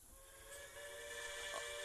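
A steam-style train whistle sounds from the locomotive Wildfire in a Roblox Thomas and Friends game, a faint sustained multi-tone blow with steady running noise beneath.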